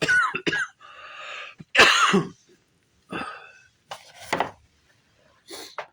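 Several harsh coughs and throat-clearing bursts come in uneven fits, loud and close, with short silent pauses between them.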